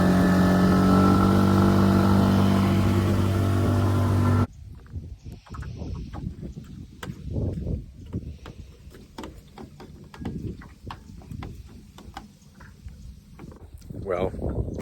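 Outboard motor on a stretched skiff droning steadily at moderate throttle, around 13 mph, loud and even for a few seconds, then cutting to softer water and wind noise as someone talks.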